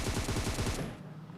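Rapid automatic gunfire in the PUBG video game, a loud burst of repeated shots in quick rhythm that stops abruptly and leaves a short fading tail.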